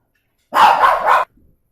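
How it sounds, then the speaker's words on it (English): A dog barks three times in quick succession at close range, loud and sharp, followed by silence. "I think that's another dog."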